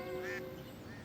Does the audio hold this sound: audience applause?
no